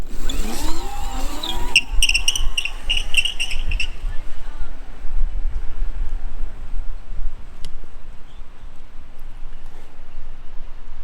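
Whirring electric motors of a RION scooter and a Skip rental scooter racing rise and sweep past amid shouting voices at the start, then a steady rolling hiss of wheels fades into outdoor noise.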